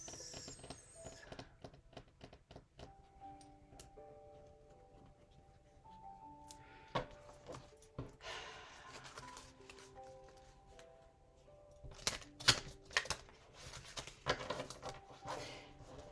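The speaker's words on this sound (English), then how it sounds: "I don't want to shuffle my cards this way because I don't like when they bend." A deck of cards being shuffled by hand, a run of quick riffling and flicking bursts that grows denser and louder toward the end, with soft tonal background music underneath.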